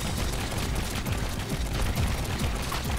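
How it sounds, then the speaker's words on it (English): Machine guns mounted in the front panel of a large custom-built tank in Trailmakers fire in rapid succession, a dense, continuous rattle of gunfire bursts that persists loudly throughout with no talking. "See the machine guns fire in succession."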